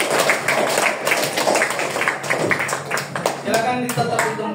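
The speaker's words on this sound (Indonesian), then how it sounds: "Tepuk tangan untuk kalian semua." Applause and clapping from an audience after a talk, a close, dense patter of hands with overlapping voices and some rhythmic clapping toward the end.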